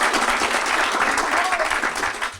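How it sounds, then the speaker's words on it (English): An audience at an educator awards ceremony applauds loudly and steadily for a guest assemblyman, a dense wash of many hands clapping throughout. "let's just give him a round of applause"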